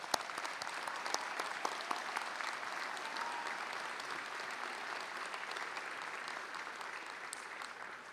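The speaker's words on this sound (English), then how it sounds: "Let's give the graduates a round of applause." Steady crowd applause fills the whole stretch for graduates at a 2018 commencement ceremony, a dense even patter of many hands with no voices over it.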